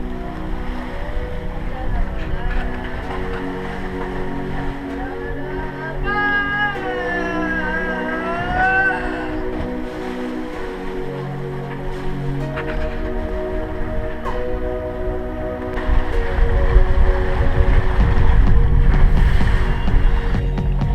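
Sailing catamaran under way on an open-sea passage in the Caribbean, with steady engine-like drone, wind and water rush throughout, plus a brief warbling tonal sound in the middle and louder wave wash toward the end.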